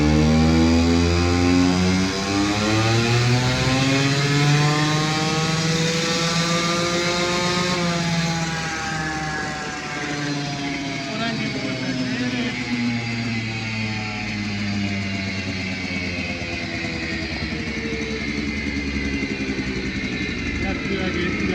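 An Aprilia SR50 scooter engine running lean buzzes loudly and close, its whining pitch climbing, then sagging and wavering as it struggles to keep running, with a steady drone throughout.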